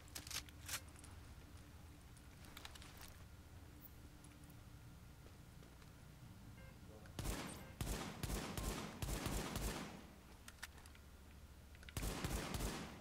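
Gunfire at a shooting range in Tom Clancy's The Division, heard as rapid bursts of automatic shots that come in clusters over a dim background hum, with scattered lone cracks before them.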